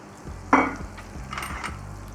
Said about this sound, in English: Stir it around. You wanna melt it.